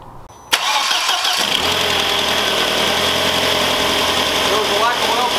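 After a timing belt replacement, a car engine cranks and catches about half a second in, then settles into a loud, steady idle that holds close and even for the rest of the clip.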